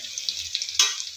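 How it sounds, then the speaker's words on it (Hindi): Chopped onions fry in a pan until brown, giving a steady close sizzle with a sharper burst partway through as they are stirred. "मु प्रथम पियाज को भल भाव भाजी नेली ब्राउन कलर हवा पर्यंत भाजिली"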